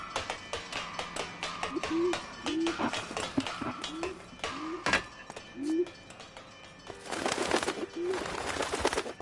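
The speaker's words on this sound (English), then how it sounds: "The pigeon coop." Pigeons coo repeatedly inside a pigeon coop, soft rolling calls recurring every second or so over rustling, thumps and scattered wing or foot noises, growing busier and louder toward the end.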